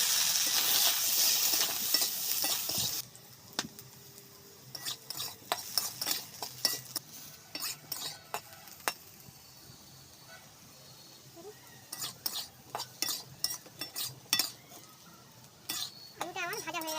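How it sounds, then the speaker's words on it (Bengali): Potato pieces fry in oil in a kadai, a hissing sizzle opening the clip before turning into a run of scraping and clinking stirring strokes against the pan, irregular and close, with quiet gaps between. "আলুটা আমি তেলে ভেজে নেব"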